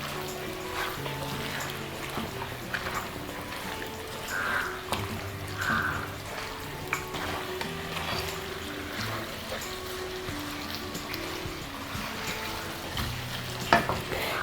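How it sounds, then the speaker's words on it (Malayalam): Beef pepper roast cooking in a pan in Kerala style, stirred with a spoon through a steady low sizzle, occasional scrapes and light clinks of utensil against the pan, no talking. "നന്നായി ഒന്ന് ഇളക്കി കൊടുക്കാം"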